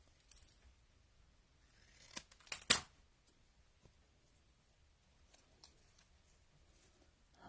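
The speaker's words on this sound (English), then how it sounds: "Now let's snip that about there." Scissors snip a few times in quick succession at close range, the cuts sharp and crisp against an otherwise quiet room.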